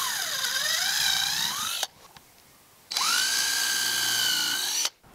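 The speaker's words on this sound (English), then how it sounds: "Pre-drill the pilot holes with a countersink." A power drill with a countersink bit pre-drills pilot holes in cedar picket boards for a raised garden bed, with two close, loud whirring bursts split by a short pause.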